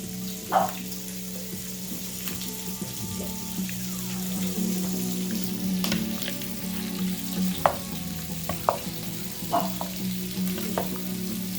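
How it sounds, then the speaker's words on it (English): Meat being stirred into beans for chili in a pot, a soft steady sizzle with intermittent spoon scrapes and clinks, close and moderately quiet, no talking. "let's now stir the meat into the beans"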